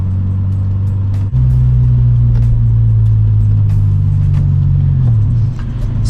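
A 2014 Subaru BRZ exhaust drones steadily while driving, a loud, close low rumble holding one pitch, briefly dipping near the start, then easing and falling away toward the end.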